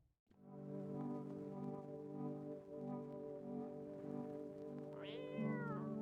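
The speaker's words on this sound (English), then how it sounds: "Meow, pet the cat." A cat in the video game No I'm Not A Human meows in a long, drawn-out, wavering call, close and clear, with a rising, higher-pitched cry near the end.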